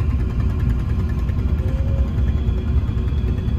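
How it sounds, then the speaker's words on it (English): A ferry's engine runs on a boat bound for Karimunjawa island in Java, a steady low rumbling drone with a constant vibrating hum that carries on evenly throughout. "They turn on the engine."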